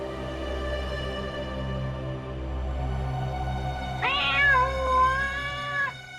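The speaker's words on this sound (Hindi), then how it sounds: "ये बिल्ली की आवाज कहां से आ रही है?" A domestic cat gives one drawn-out meow that rises and wavers for about two seconds near the end, heard fairly clearly over a steady low background hum with no talking.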